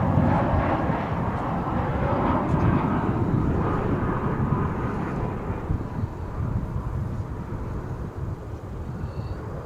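A jet airliner arriving from Denver lands at Dallas Fort Worth airport, its engines a loud, close roar with a whining tone that slowly fades and lowers as it rolls past.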